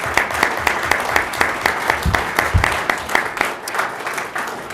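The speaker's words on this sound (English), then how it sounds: "Let's have a round of applause for our candidates for mayor." An audience applauds the mayoral candidates at the close of a Canon City council candidate forum, a steady wash of many hands clapping with a few louder nearby claps standing out, loud and sustained without speech.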